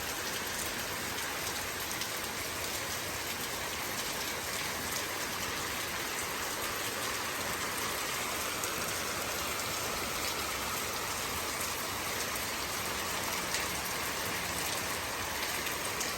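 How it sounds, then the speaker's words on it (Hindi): Steady rain falling continuously, a dense hiss of drops on surfaces with no voices, constant in level throughout. "पूरी रात बारिश होती रही है।"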